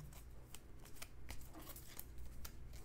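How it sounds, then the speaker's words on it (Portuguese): Three playing cards shuffled by hand at a leadership training game, giving soft papery riffling ticks and slides over a low steady room hum, with no talking. "E essas 3 cartas eu vou embaralhar"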